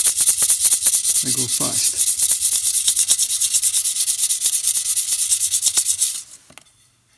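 Rapid back-and-forth rubbing of folded 400 grit sandpaper on a repaired ceramic piece, loud, close and rhythmic, with a brief spoken remark early on, then stopping abruptly near the end.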